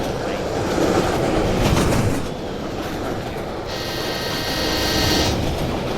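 A train in a Roblox video game rolls past close by with a loud, continuous rumble and clattering wheels. A rising whine comes in partway through.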